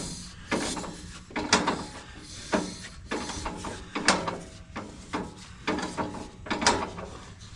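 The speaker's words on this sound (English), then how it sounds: "we'll spin the tractor over and work it that way" A 1941 John Deere tractor engine, silent for 40 years and sprayed with WD-40, is turned over by hand, giving repeated rhythmic mechanical clunks and ratcheting scrapes roughly every half second, close and fairly loud.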